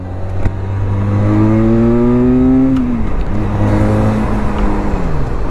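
A nearly new Honda Rebel 500 cruiser motorcycle revs up loudly and steadily, rising in pitch through two gear changes with a brief dip between them, close to the rider.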